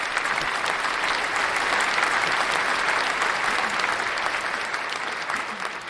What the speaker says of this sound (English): Give you a clap for that for sure